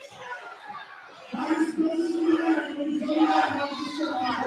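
A crowd roars in a played-back sports clip, swelling suddenly after a quiet start into a loud, sustained cheer that carries through to the end.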